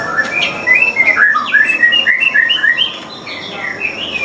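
A white-rumped shama songbird sings a rapid series of bright whistled chirps and trills, close and clear over faint background noise.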